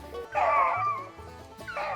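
Hunting dogs bark and yelp while chasing rabbits on a Daviess County rabbit hunt, two short close bursts of excited baying separated by a brief pause.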